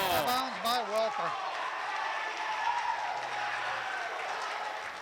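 A gym crowd at a boys high school basketball game between Cambridge Springs and Cochranton cheers and claps in a sustained, moderately distant swell, while a voice talks over it.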